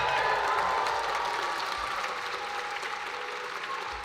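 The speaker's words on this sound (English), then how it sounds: "My script says that I should pause for an uproarious roar from the crowd" Crowd at a state awards ceremony applauding and cheering, a dense steady wash of clapping with scattered shouts that holds strong throughout and fades slightly toward the end, no talk over it.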